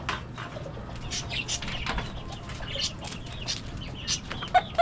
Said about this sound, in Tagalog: Ito yung mga laga kong manok.